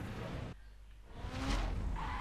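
Car skidding and crunching into a collision in The Crew racing game, a broadband tire-scrape burst after a brief drop, over steady engine noise with a faint voice.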